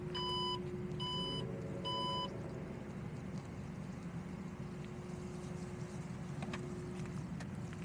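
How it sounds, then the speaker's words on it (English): Three evenly spaced electronic beeps sound close by as the trunk of a 2024 Alfa Romeo Stelvio Ti closes over a steady engine hum, then only the idling drone and a few faint clicks remain. "that beeping was louder than usual"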